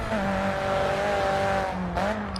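Race car engines in GRID 2 drone in steady harmonic tones, joined by high tire squeal, with a sharp shift in pitch near the end as the car accelerates hard and the tires scrub.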